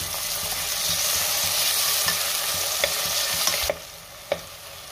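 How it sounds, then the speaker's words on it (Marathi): Tomatoes sauté with onions in a pan for Malvani chicken sukka, giving a steady close sizzle with soft stirring scrapes and a few sharp utensil knocks near the end. "आता आपल्याला ह्यामध्ये टोमॅटो घालायचे आणि टोमॅटो सुद्धा 2 मिनिटं चांगलं परतून घ्यायचं आहे"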